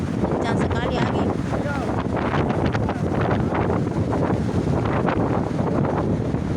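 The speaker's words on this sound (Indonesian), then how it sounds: "kencang sekali angin." Strong gusting wind on a beach, roaring and buffeting the microphone continuously alongside surf, loud and close throughout, with a voice faintly audible beneath the rumble.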